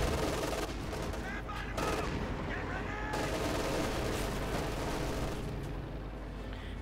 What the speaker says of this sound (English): then encountering the Panther's machine guns